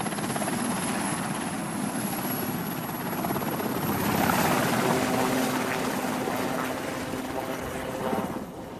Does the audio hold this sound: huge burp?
no